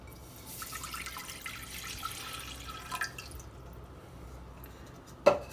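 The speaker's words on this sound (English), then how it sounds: "the first step is to put the water on the pot" Water runs into a cooking pot to make homemade Belgian candy sugar, a soft, close splashing and trickling that ends with a sharper drip or clink.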